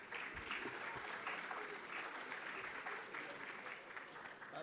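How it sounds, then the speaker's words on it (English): A conference audience applauding the judges at an energy conference, a sustained wash of many hands clapping at moderate distance, steady throughout with a slight dip near the end. "Please, let's applaud our judges."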